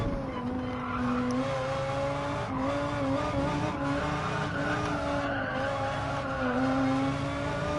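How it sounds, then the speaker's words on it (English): A race car in Gran Turismo 7, lapping the Dragon Trail Gardens circuit in a Manufacturer Cup practice: steady engine drone with tyres squealing in repeated rising and falling wails through the corners, loud and continuous. "Tyres are starting to squeal"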